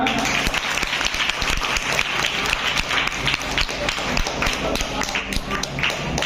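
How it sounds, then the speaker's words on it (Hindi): Dense, steady applause from a large crowd of students and staff welcoming a former Hindi teacher at a Teachers' Day honoring ceremony at an inter college, loud and continuous throughout. "सर थोड़ा सा कष्ट देंगे आपको, तालियों से स्वागत"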